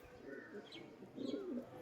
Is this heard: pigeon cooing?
yes